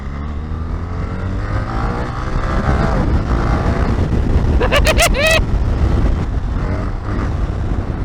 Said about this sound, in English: Another third gear power wheelie.